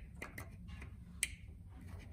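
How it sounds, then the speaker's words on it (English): A cable plugging into a connector on an Onefinity Woodworker X-50 CNC machine gives a single small sharp click, faint and close over low background hum. "You hear a little click"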